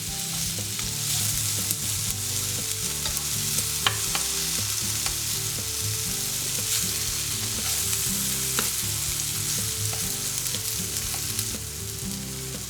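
Tofu fries in a pan with a loud, dense, unbroken sizzle. Occasional sharp ticks from stirring come through, and no voices are heard.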